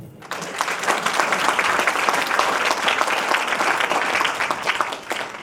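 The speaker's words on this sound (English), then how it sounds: "we can give them a big round of applause" Steady, dense applause from a large audience at an academic conference session on the question of Palestine, loud and continuous for several seconds before tapering slightly at the end.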